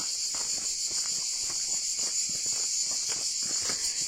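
Cicadas sing high above the Verdon gorge in Provence, a steady, dense, shrill drone that fills the whole clip at close range, with faint footsteps underneath.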